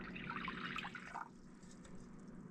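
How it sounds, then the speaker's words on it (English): Water poured from a cup into a pot on a stove for elderflower syrup, a soft, close splashing trickle that fades after about a second, quiet and without voices. "I'm going to add our 2 cups of water"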